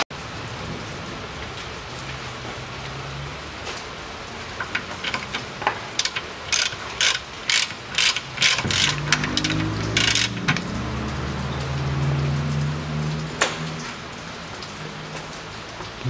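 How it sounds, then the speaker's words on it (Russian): Rain patters steadily with sharp metallic drips and clinks on a hard surface, a low mechanical hum joining toward the end. "Так, жду, чтобы дождик прекратился."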